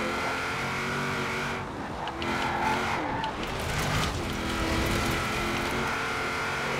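A car racing in the Forza Horizon 4 video game drones steadily throughout, with tire skidding and squeal mixed into the continuous engine roar as it corners.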